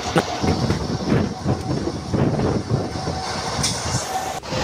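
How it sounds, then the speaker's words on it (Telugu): The Guntur to Tirupati Express running fast, a dense rolling rumble of wheels on track with rhythmic clanks and wind rush heard from on board, loud and continuous. "ట్రైను చాలా వేగంగా వెళ్తుంది"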